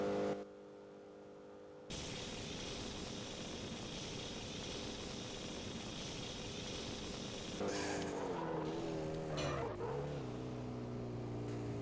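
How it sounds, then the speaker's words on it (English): Racing in the Street Racing Syndicate game on PC: a steady, droning car engine runs continuously after a brief quiet start, then surges and shifts pitch as nitrous boost kicks in near the end. "I'm gonna hit the nitrous."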